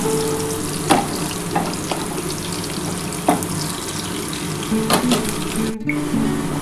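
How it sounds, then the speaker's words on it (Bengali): Onions sizzle steadily in a pan, fried until reddish-brown for a kalmi shaak bata, with occasional louder crackles and stirring scrapes close by and no talking. "আমার কিন্তু পেঁয়াজটা লাল লাল করে ভাজা হয়ে গেছে"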